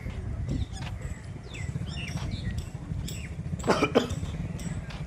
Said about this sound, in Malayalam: എൻ്റെ ചുമ ഒരു തടസ്സം വന്നു